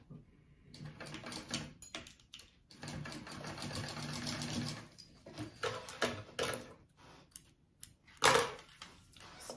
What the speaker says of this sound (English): I'm going to sew them on the ends at the seam allowance